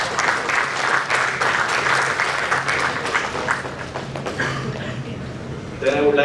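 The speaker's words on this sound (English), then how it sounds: "So big round of applause." Audience at an energy-policy panel discussion applauds with dense, sustained clapping that fades slightly toward the end, while a voice speaks over it.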